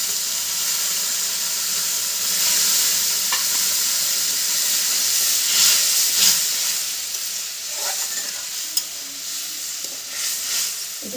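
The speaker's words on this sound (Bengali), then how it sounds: "এবার গরম জল করে রেখেছিলাম, মা গরম জলটা দিয়ে দিচ্ছে।" Hot water poured over fried rice in a pot for basanti polao sets off a steady, loud sizzle and hiss that carries on with faint scraping, with no talking.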